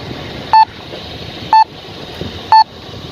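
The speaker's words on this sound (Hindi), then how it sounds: "जैसे ही हमारा बेस रिसीवर स्टैटिक मोड पे कन्वर्ट हो जाएगा तो आपको बीप की आवाज़ आना स्टार्ट हो जाएगी।" A GPS base receiver switching into static mode gives three loud, short electronic beeps about a second apart, each a clean tone over a constant hiss of background noise.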